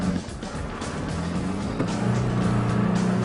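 Isuzu D-MAX driven on sand under heavy throttle, its engine droning loud and close in a continuous strained roar that swells slightly toward the end, with no talk.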